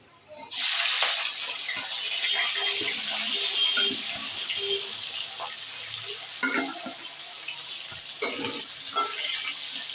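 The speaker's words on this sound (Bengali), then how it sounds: "তেল গরম হয়ে গেছে। এবার আমি কড়াই মাছগুলো দিয়ে দিচ্ছি।" Katla fish drops into hot oil in a wok, and a loud sizzle bursts up at once and then holds as a steady crackling fry, with a few stirring knocks.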